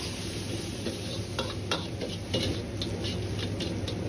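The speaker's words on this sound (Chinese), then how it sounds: "锅中留少许的油，下入切好的猪肉丁，先翻炒" Diced pork stir-fried in a wok with a little oil, a continuous close sizzle broken by repeated scraping and clinking of a spatula against the metal, no voices.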